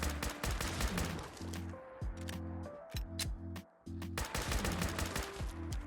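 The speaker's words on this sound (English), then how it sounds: "Let's see how we do with the 45 caliber pistol." .45 caliber pistol from a modded Fallout 4 sidearms pack firing rapid, loud gunshots in quick succession over a steady tonal game background, with a brief lull near the middle.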